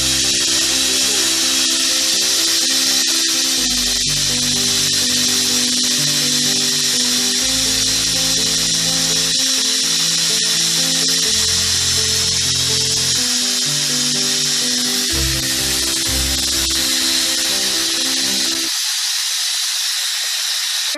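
A pressure cooker on the stove lets off a loud, continuous whistling hiss of steam for about twenty seconds while coconut milk pulav cooks, with tonal background sounds running underneath, before cutting off abruptly near the end.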